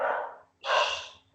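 Small dogs give two sharp, close barks separated by a short pause, with a third starting at the end, loud and without any talking.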